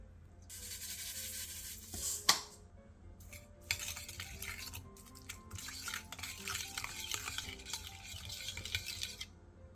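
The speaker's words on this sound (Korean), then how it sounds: "골고루 섞어 가지 무침에 양념을" A spoon scrapes and stirs seasoning (sugar, perilla oil, minced garlic) around a bowl in quick continuous strokes, with one bright clink of metal against the dish; no speech.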